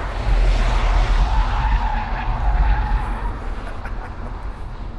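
Audi RS4 skidding with its stability control switched off, giving a loud, sustained roar of tyres sliding across a wet road, with engine noise underneath that eases slightly toward the end.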